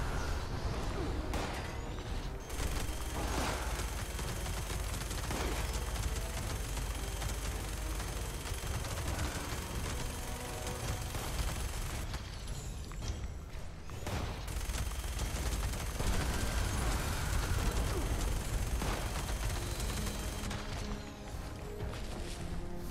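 Heavy gunfire in the video game Fallout 76, with dense, sustained bursts of shots and crashes filling the whole stretch at a steady loud level, briefly thinning twice before resuming.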